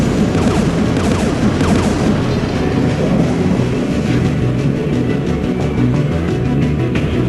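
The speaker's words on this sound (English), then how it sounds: "One of us needs to dismantle that AA gun." Sustained booming and rattling anti-aircraft gunfire in a Mass Effect 3 battle, a dense continuous barrage of heavy thuds and clatter with no voices over it.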